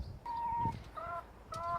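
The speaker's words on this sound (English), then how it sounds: "Yeah, they're the chickens." Backyard chickens, including a broody hen, give a few short tonal clucks and calls in a quiet garden, fairly faint and with no talking.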